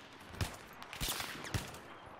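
Gunfire rings out in the shooter game Battlefield 3, a few scattered shots with some distance to them, fairly faint against a busy battlefield background.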